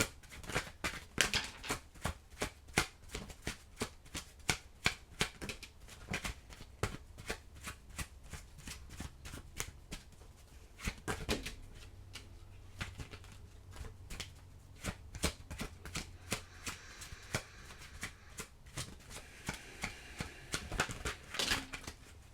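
Tarot cards shuffled and drawn by hand, a long run of close, crisp riffles and slaps with brief pauses, no talking.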